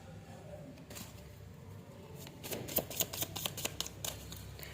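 Tarot cards are shuffled close by, a soft riffling patter that grows busier and crisper midway, with a low, faint background.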